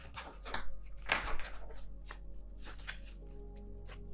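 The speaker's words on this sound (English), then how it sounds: "Let me see if I can actually shuffle this way." Soft, uneven riffling and slapping of tarot cards being shuffled by hand, close and quiet, in several short bursts.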